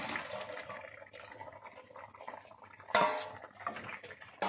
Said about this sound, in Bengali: আমার ঝোলটা ফুটছে, এবার আমি দিয়ে দিচ্ছি ধোকাটা